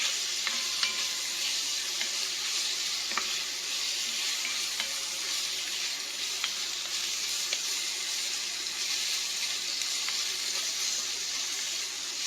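Onions and celery sizzling in a bacon-greased pan for clam chowder, a steady bright frying hiss with occasional stirring clicks and scrapes, close and continuous with no talk.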